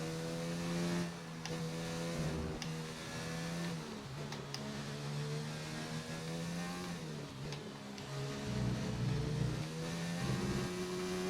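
Engine of an F1 race car in the F1 2019 video game, with a new engine, a continuous high-pitched whine climbing and dropping through gear changes as the car accelerates, steady and loud throughout with no talk.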